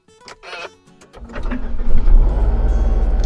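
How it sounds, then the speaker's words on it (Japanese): A Mitsubishi Delica Mini fitted with an idling-stop canceller starts up: a few clicks and brief chime-like tones, then the starter catches and the engine settles into a loud, close, steady idle rumble. "ではねちょっとエンジンかけてみます。"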